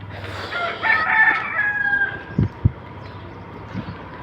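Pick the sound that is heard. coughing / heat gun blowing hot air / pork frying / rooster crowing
rooster crowing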